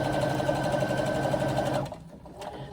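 A sewing machine runs steadily while stitching the side seam of a fabric swim bag, a close, dense mechanical whir with rapid needle chatter that stops abruptly near the end, leaving a quiet room.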